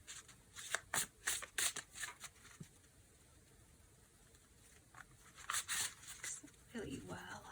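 A deck of cards being shuffled by hand, close and fairly quiet, in two bursts of quick riffling snaps separated by a pause, with a brief spoken voice at the end.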